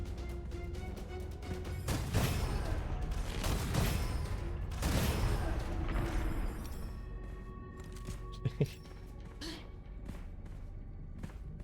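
A cannon weapon fires in the shooter game Gunfire Reborn: loud booming blasts and crashing impacts cluster in the first several seconds, then settle into quieter mechanical clicks and clatter.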